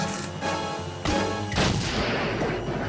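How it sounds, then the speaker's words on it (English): A missile fired from the Batmobile in a Batman audio drama blasts with a sharp, loud crash and shattering glass, followed by a heavy rumbling boom as the lobby window breaks. "Batman fires a missile from the Batmobile, shattering the lobby window."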